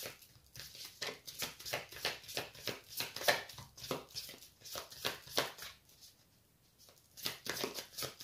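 Repeated rapid riffling of tarot cards being shuffled, a steady series of crisp bursts with brief pauses, close up and alone.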